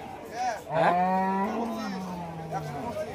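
A bull lets out a long, deep moo at close range, with a busy outdoor cattle market in Rajshahi murmuring faintly in the background.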